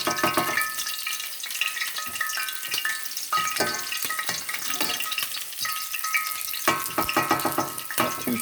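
Bologna slices fry in hot grease with a dense, crackling sizzle and bursts of sharp popping spatter. The sound stays close and steady throughout, with no voices.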